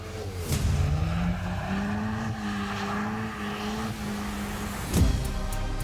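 A Renault test car slides sideways across a wet, hilly test track at the Aubevoye technical centre, its engine holding a steady drone with a rising and falling whine and brief bursts of tyre noise, with no talk.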